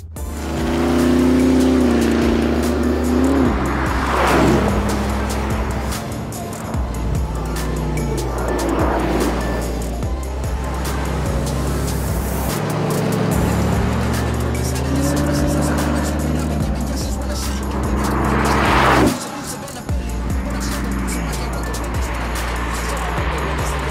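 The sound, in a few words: Koenigsegg Regera hypercar driving flat out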